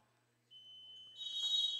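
A high school wrestling match ends on the buzzer: a steady electronic tone sounds alone for about a second, then a louder, harsher buzz swells over gym noise to the end.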